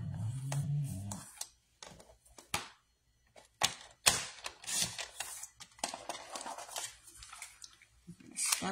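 Paper for a Christmas scrapbook card is trimmed with a paper cutter or scissors, making a low thud followed by a run of close, crisp snipping and sliding clicks with brief pauses between them.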